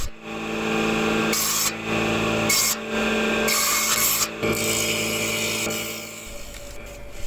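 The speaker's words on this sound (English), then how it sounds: "I am cutting tenons on table saw" A table saw cuts tenons in wood, its motor humming steadily while the blade rasps through the stock in several bursts of a few seconds each.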